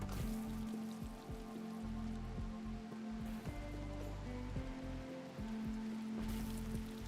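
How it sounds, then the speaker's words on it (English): Rain begins falling in the video game Rimworld, a soft steady hiss of rainfall sounding over a sustained game music drone with low notes that change every few seconds, no talking. "Now the fire starts. I mean, the rain starts."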